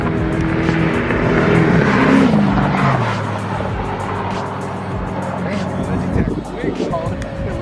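A BMW E90 328i and a VW MK6 GTI race past with loud engine roar and rising then falling engine tones as the cars pull away, while people talk over the noise.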